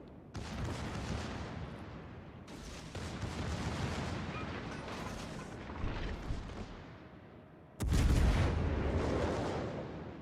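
Battleship main-gun salvos in World of Warships: Legends, heavy booming blasts with long rumbling tails, one louder close volley near the end.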